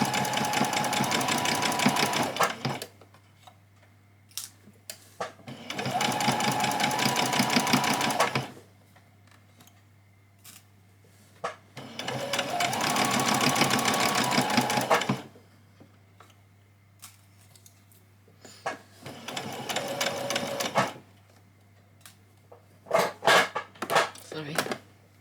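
A sewing machine runs through four long back-stitch bursts while a child's dress is sewn, loud and close, with quiet pauses between runs and a few short clicks near the end.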